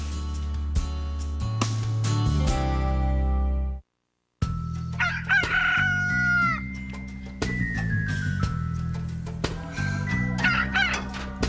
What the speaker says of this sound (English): He woke me up every morning with his blasted crowing.